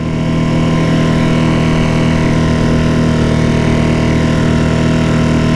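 A Mercury 3.5HP outboard motor runs at half throttle on the water, a loud, steady engine drone with a strong low hum that holds constant from start to finish.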